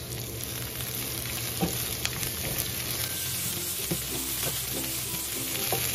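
Mushrooms and black fungus stir-fried in a pan for a meatless Chinese-style Buddha's delight, a continuous close sizzle with scraping stirs throughout.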